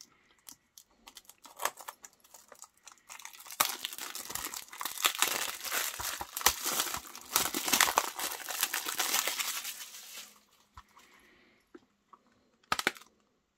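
Unboxing the Alex Kidd in Miracle World DX package: sparse clicks and handling, then a dense stretch of crinkling, tearing plastic wrap and cardboard rustling, fading to a few final taps.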